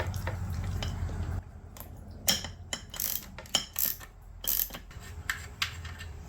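Ratchet wrench with a swivel socket loosening bolts on a Mercury 75 outboard motor, giving a series of sharp metallic clicks and clatters in irregular bursts, close and fairly loud, with low rumbling handling noise at the start.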